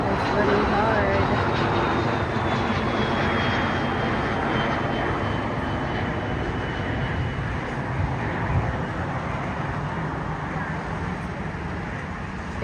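A loaded jet airliner passes at LAX airport in heavy rain, a broad steady roar with a faint whining tone that stays loud and slowly eases, with rain hiss and a voice speaking.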